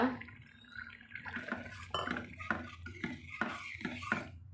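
A spoon scrapes and clinks around a pot of Tamil kara kuzhambu curry in a steady stirring rhythm, with a soft bubbling, liquid texture underneath.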